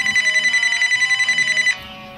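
A telephone rings in a steady run of trilling rings, loud and close, and then cuts off abruptly.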